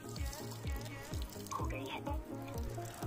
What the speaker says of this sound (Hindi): आ गया यार पानी तो सचमुच आ गया, प्रेशर से आ रहा भाई काफी।